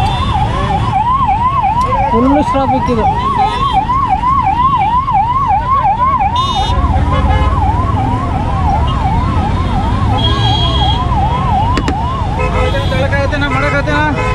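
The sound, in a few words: ambulance siren in Bangalore traffic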